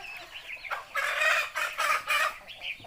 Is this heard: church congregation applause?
no